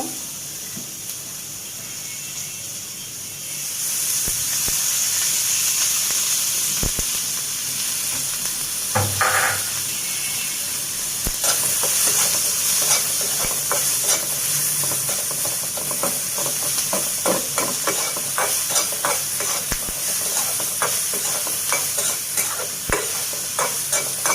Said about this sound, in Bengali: আমি মাছের ভর্তার জন্য পেঁয়াজটা ভেজে নেব